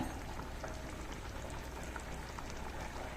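Milk curry boiling hard on a high flame, a steady bubbling hiss with dense popping that fills the whole moment, close and even, no voices.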